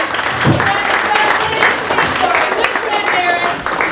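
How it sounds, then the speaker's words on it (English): A community theater audience applauds the food from a shared meal of dishes like goulash, the clapping sustained and fairly full, with voices and cheers mixed into the crowd noise. "let's have a big round of applause for all this wonderful food"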